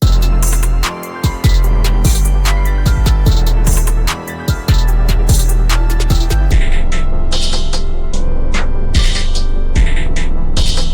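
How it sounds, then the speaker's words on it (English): A loud, dense electronic beat with heavy low end, processed with the FL Studio Gross Beat effect, repeatedly drops out and stutters, chopped and gated in rhythmic bursts, with no voices. "So now the gross beat is going to sound like this."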